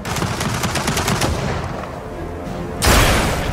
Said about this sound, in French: lui tirer en fait en haut du crâne, hein, dans le pariétal